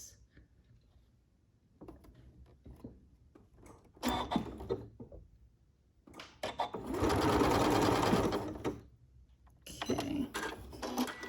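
Janome MC9450 sewing machine stitching out a name sideways, whirring in bursts that build to a long steady run, with clicks and shuffling in the pauses between.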